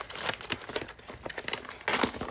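Close-up crinkling and rustling of packaging, with irregular snips and crackles as the material is cut open, no speech.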